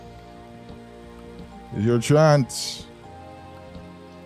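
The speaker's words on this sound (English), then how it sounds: "I thought the rain's gonna go away too" Steady rain patters in the Minecraft video game, a constant soft hiss running throughout beneath a few spoken words in the middle.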